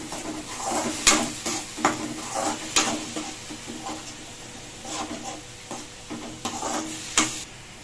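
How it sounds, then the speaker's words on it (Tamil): Ground onion sautéing in a pan for a Tamil-style mutton lung dish, with a steady low sizzle and repeated stirring scrapes and clinks of a utensil against the pan, close and moderately loud, no talking. "அரைச்ச வெங்காயத்தை இதில் சேர்த்துட்டேன். இப்போ வெங்காயம் நல்லா வதங்கணும்."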